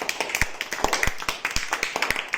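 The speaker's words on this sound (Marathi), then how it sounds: "त्यासाठी जोरदार टाळ्या वाजवा." Students clap their hands in a classroom, a brisk, dense patter of overlapping claps that keeps going steadily at a moderate distance.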